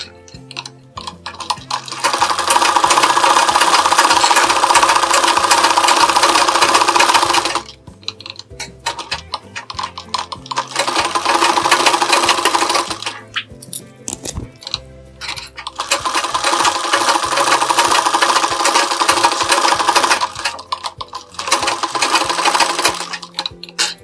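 A sewing machine stitching the lining of a blouse runs in three long, loud, steady bursts of rapid whirring, with short quiet pauses between them. It is close up and there is no talk.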